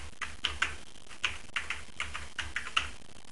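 An email address is typed on a computer keyboard, with about a dozen clicky keystrokes in an uneven rhythm, close up and with no voices.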